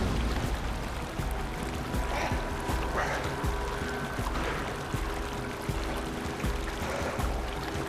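Feet and bare toes step into icy Alaskan river water, giving continuous sloshing and pouring splashes with repeated stepping bursts, close and fairly loud, with no talk.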